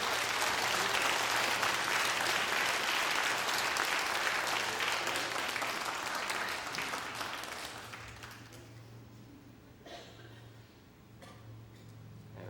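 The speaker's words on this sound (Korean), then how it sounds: "오늘 아버지 날에는 또 아버님들 한번 다 일어나시고 우리 박수 한번 쳐보면 어떨까요?" A Korean church congregation applauds standing fathers on Father's Day with sustained, dense clapping that fills the room for about eight seconds, then thins out and fades to scattered claps.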